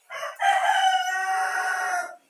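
A rooster crows once, loud and near, a single long sustained call with a short lead-in note, alone against silence.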